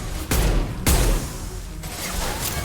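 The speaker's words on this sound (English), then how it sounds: "Concussive shot ready." In Mass Effect 2, a Concussive Shot ability fires as two loud, heavy concussive blasts in quick succession, each with a deep booming thump and a lingering rumble.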